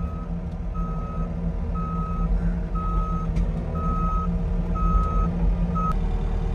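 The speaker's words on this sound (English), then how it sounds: "Holy crap, it's a skid steer." A skid steer reversing during hay hauling gives steady, evenly spaced backup beeps, about seven in a row, over a loud, constant diesel engine rumble.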